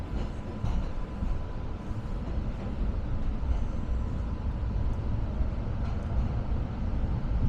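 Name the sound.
MBTA B branch trolley train riding in winter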